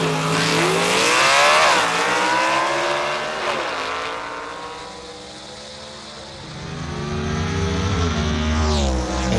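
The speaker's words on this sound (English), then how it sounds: "Good shot from behind right here as you watch this car leave the line." A drag racing car launches off the line at a dragway, its engine roaring hard and rising in pitch as it pulls away, then easing off before building again near the end.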